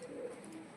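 A pigeon, a hen bird kept for flying, coos in soft low repeated notes that sit faint and close, with no talk over them.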